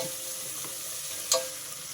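Onions frying in a pan until deep brown for bagara rice, a faint steady sizzle with a brief stir or clink partway through.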